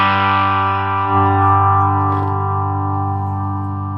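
A 1993 Gibson USA Explorer electric guitar rings out through a Line 6 amp with distortion and effects, sustaining a thick chord that slowly decays with a brief pick scrape midway, played alone.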